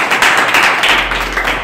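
Children and adults in a school classroom applaud a girl. The brisk, dense clapping is close and loud and carries on steadily for a moment.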